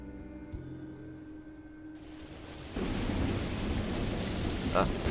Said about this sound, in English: A hurricane brewing on the horizon, and a mighty big one at that.